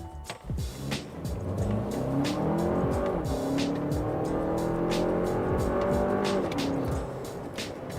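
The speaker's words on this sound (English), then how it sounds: "let's do one from a stop up to 80 kilometers an hour in the 4-cylinder" A 2023 Lexus RX 350 with the four-cylinder engine is driven at full throttle from a standstill to 80 km/h. Its engine note climbs steadily and loudly through the gears, with faint tire noise and no talking.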